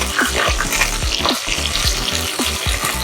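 Whole spices and green chilies are dropped into hot oil for a chicken biryani in an electric rice cooker, giving a loud, continuous sizzle with sharp pops and crackles spread irregularly throughout.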